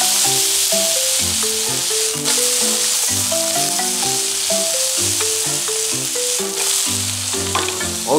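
Vegetables fry in a pan for sauce yakisoba over medium heat, a loud, steady close-up sizzle and hiss that runs throughout beneath background music.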